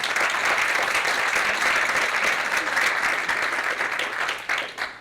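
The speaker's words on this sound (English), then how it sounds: "I think we owe them another round of applause." Audience applause at a film screening event on political advertisements, a dense steady clapping that holds strongly for several seconds before tapering off near the end.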